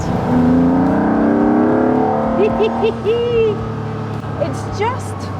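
A Ferrari 275 GTB engine revs loudly nearby, rising and falling in throaty bursts, with people talking over it.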